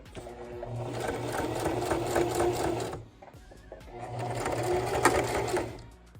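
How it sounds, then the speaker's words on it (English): A sewing machine runs in two steady bursts of rapid stitching through many layers of flag cloth, close and loud, with a brief pause and some handling clatter between them. "get a good sewing machine because this flag has a lot of layers of cloth"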